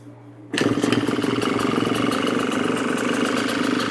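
A Yamaha YZ motorcycle engine fires up abruptly after a brief quiet moment, then settles into a loud, steady, rapidly pulsing idle close by.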